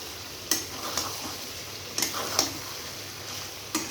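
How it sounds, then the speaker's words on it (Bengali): Masala being mixed into chicken gizzard and liver in a pan: soft sizzling under a handful of sharp clinks of a spoon against the pan, spaced irregularly, close and fairly quiet. "ভালোভাবে কিন্তু মশলাটাকে মাখিয়ে নিচ্ছি"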